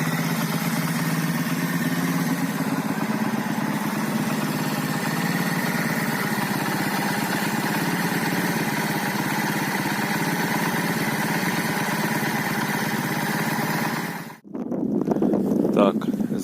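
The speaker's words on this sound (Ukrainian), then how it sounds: "Двигатель э, працює, конечно. так як треба." A repaired Delta moped engine runs steadily at idle for a long stretch, a continuous close mechanical drone that briefly drops out near the end before resuming.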